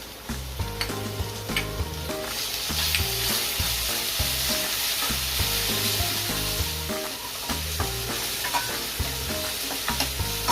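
Ginger, garlic and chili paste frying in a pan for a tomato sev curry, loud continuous sizzle with repeated stirring scrapes close by, no talking.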